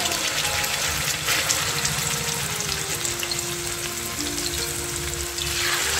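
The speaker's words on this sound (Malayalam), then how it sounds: "നമ്മുടെ എണ്ണ ചൂടായിട്ടുണ്ട്, നമുക്ക് ഇനി ഇതിനകത്തേക്ക് ഇട്ടത് വറുത്തെടുക്കാം." Chicken legs deep-frying in hot oil make a loud, dense, continuous crackling sizzle that holds steady throughout, close up, with no voices.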